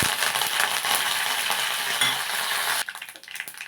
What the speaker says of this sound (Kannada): ಇವನ್ನೆಲ್ಲ ಹಾಕಿ ಚೆನ್ನಾಗಿ ಫ್ರೈ ಮಾಡ್ಕೊಳ್ಳೋಣ